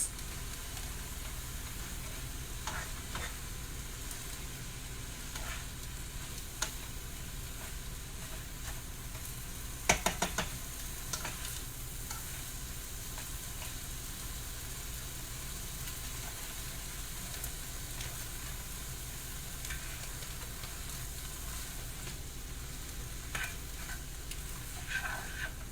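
Spiralized butternut squash lo mein noodles and spinach fry in a pan with a steady, close sizzle and hiss, broken by occasional stirring scrapes and a louder clatter partway through.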